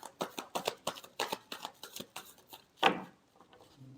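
Tarot cards shuffled by hand in a quick run of crisp riffling bursts, about a dozen close, rhythmic flutters, then one louder snap and a brief pause.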